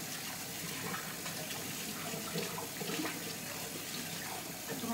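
Dishes rinsed under a running kitchen tap, a steady, even hiss of flowing water with small splashes, quiet and continuous with no talk.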